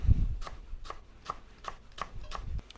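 Spring onion whites being finely chopped on a cutting board with a knife, a steady run of about seven crisp, evenly spaced strikes heard up close with no talking.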